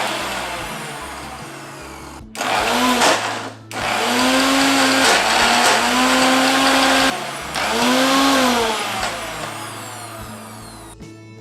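A mixer grinder whirs loudly in repeated pulses, grinding cooked sorrel leaves and lentils, each burst spinning up with a rising whine and then stopping in brief pauses.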